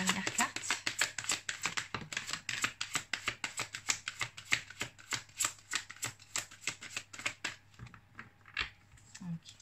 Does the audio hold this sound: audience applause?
no